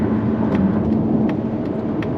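A turbocharged 2025 Mazda CX-30 accelerates with a steady, loud mid-range engine drone and tyre whir from inside or close by. No one talks.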